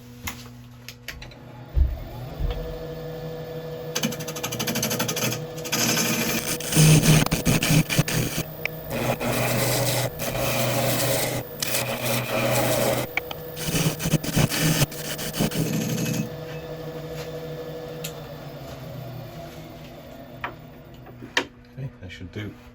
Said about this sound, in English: Right, I'm going to start sanding.